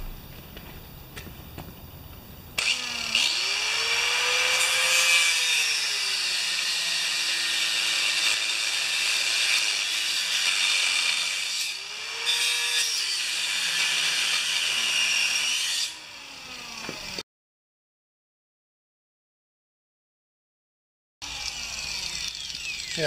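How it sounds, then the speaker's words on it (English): Cutting-disc grinder slicing out welds in salvaged metal for a table build, a loud continuous whine with rising and falling pitch as the disc bites, running about fifteen seconds, then a short silence and the grinder again. "let's start cutting some of these welds out of here"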